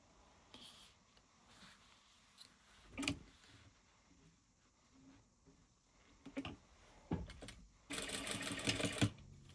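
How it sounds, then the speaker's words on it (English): A sewing machine stitches wallet pieces placed right sides together, running in short intermittent bursts with a longer, louder run near the end, close by amid quiet handling. "we're going to put it right sides together, and we're going to stitch that in place."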